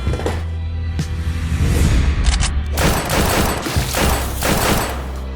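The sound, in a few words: gunfire sound effect, character shot in an elevator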